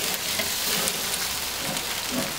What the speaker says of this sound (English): Now I'm just going to scrape this off